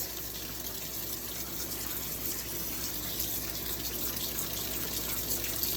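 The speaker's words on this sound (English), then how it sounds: "I'm gonna just lay this out in my sink and I can easily rinse my produce." Tap water runs steadily into a sink as strawberries are rinsed on a netted dishcloth, a constant close rushing splash with no talk.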